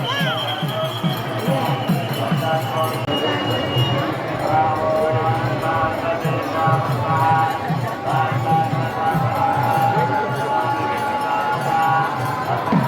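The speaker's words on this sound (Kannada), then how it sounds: "ಜನ ಅಂತೂ ನೋಡಿ ಎಷ್ಟೊಂದು ಕ್ರೌಡ್ ಇದ್ದಾರೆ ಅವತ್ತು ಕೂಡ" A dense crowd at the Male Mahadeshwara Hill temple, a continuous babble of many voices and shuffling footsteps, close and steady, with talking throughout.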